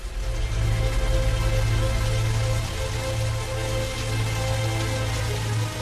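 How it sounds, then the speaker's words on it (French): Heavy rain during a flood, a dense, constant roar of drops on surfaces with a low steady hum underneath, loud and unbroken throughout. "Le rythme incessant de la pluie produisait un bourdonnement constant."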